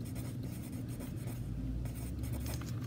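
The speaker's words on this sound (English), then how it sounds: "that's what I'm going to write" Pen strokes scratch steadily on a writing surface during a math lesson on graphs, a close, continuous scribbling with no talking.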